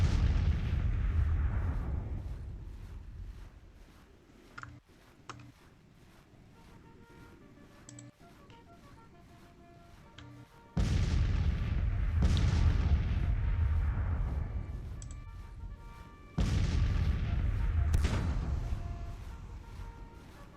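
Civil War artillery in the battle game Grand Tactician sounds as heavy booming blasts with long decaying tails, three or four big ones. Fainter crackling rifle fire fills the quieter stretch between them.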